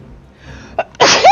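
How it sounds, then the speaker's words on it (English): A single loud sneeze bursts out after a couple of short sharp intakes of breath, close to the microphone. "Oh my god, I'm gonna sneeze."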